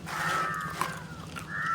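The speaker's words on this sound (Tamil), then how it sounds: "காக்காய் தானே நம்ம வீட்டில் தான் காக்காயே அதிகம்." Crows caw around a house with coconut palms, a few loud, near, drawn-out harsh calls in quick succession, with no voices over them.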